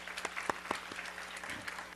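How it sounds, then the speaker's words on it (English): An audience applauds at a community association event, a moderate patter of individual claps with distinct sharp hits, continuous over two seconds at medium distance over a low hum. "Give him a big round of applause"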